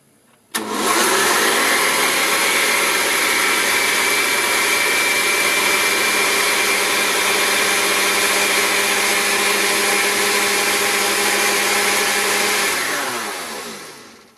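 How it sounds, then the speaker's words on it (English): A kitchen blender runs steadily at medium-high speed, whirring loud and constant for about thirteen seconds while blending homemade mayonnaise, then winds down to a stop. "Then just blend it on a medium to high speed."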